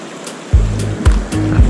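Fast-flowing creek water rushes steadily while sharp gusts of wind repeatedly buffet loudly in heavy low thumps, with no talking.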